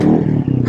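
Royal Enfield Classic 350 motorcycle exhaust giving a brief, loud, throaty rev burst up close, lasting well under a second.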